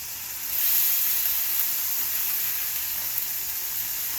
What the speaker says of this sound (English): I love that sizzle of the grill